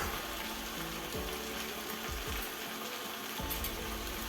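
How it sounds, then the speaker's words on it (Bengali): Whisked yogurt and sugar going into chicken cooking in a pan for doi chicken, a steady sizzle and frying hiss with some liquid slosh, close and alone. "চিনি আর দই একসঙ্গে ফেটিয়ে রাখছিলাম, দিয়ে দিলাম।"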